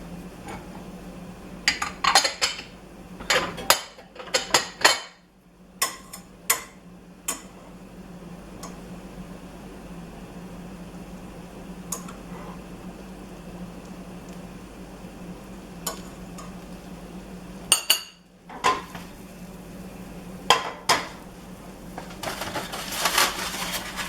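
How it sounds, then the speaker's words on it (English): Eggs frying in butter in a pan, with a steady low sizzle under scattered clinks and clatters of utensils, shell taps and a lid, up close in a kitchen. "crack eggs in the pan, cover and fry eggs to preference"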